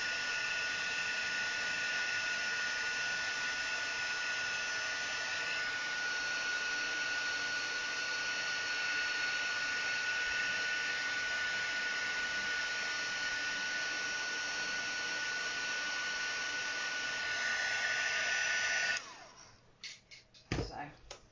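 Heat tool melting white embossing powder onto a card background at a crafting demonstration, a steady loud blowing whine held close for about nineteen seconds before it cuts off, followed by a few brief handling knocks.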